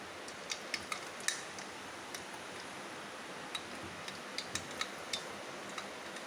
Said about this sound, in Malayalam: കടുക് പൊട്ടുന്നു.